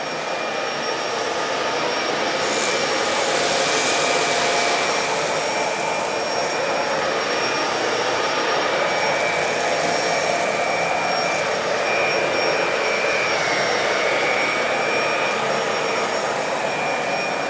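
A Bissell Pet Hair Eraser Turbo Lift-Off upright vacuum cleaner runs steadily and loudly throughout, a constant close whooshing motor roar with a high whine and no talk.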